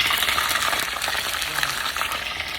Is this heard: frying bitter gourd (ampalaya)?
yes